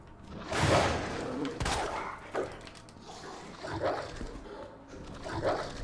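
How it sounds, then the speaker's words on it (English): A zombie dog in the Resident Evil 2 remake barks and snarls in several harsh bursts, mixed with loud game sounds and gunfire-like thumps. "There's a dog coming up."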